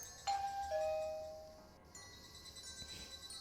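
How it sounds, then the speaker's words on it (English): A doorbell rings at a house in the Higurashi game, a soft two-tone chime sounding once, fairly faint and alone, followed by quiet ambient tones. "I rang the doorbell, but there was no response."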